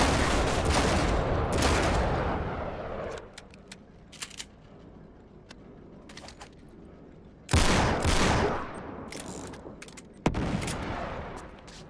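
Dense bursts of gunfire in Uncharted 3: Drake's Deception, loud and close, rattling in long volleys that break off into scattered single shots before heavy fire resumes twice.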